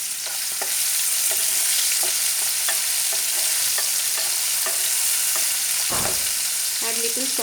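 Chopped tomatoes frying in a pan with tempering spices, chili and onion seeds for a Bengali red lentil curry, a loud continuous sizzle broken by regular spatula stirs and clinks, no voices.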